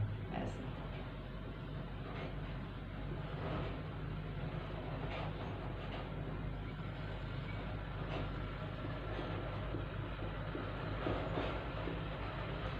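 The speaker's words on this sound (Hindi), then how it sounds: "एक मिनट रुक जाइए, ट्रैक्टर आ गया।" A tractor passes outside, a continuous low engine rumble with rattling that fills the whole stretch at moderate distance, heard from inside a room.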